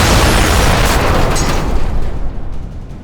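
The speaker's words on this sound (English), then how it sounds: "I saw your car blow up" A Jeep blows up in a big, loud, roaring explosion that fills the space at once, then rumbles on and slowly fades over a few seconds.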